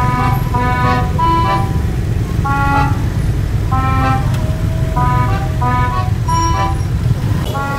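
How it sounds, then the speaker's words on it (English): Heavy road traffic jammed with visitors heading to a flower festival, constant engine rumble beneath frequent short car horn toots from several vehicles, some near and some farther off, sounding repeatedly throughout. "Look at this traffic. Traffic is so bad."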